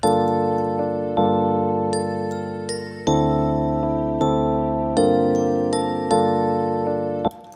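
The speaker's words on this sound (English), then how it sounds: "And all together, this is what my melody sounds like." A layered melody of sustained string-like tones plays in steady phrases, with bright bell chimes ringing over the changes, clear and close with no voices.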